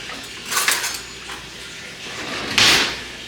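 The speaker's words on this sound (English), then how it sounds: "Get my knife." Metal cutlery clinks as a knife is picked up in a kitchen while making homemade chicken noodle soup, two brief rattling bursts over steady room noise.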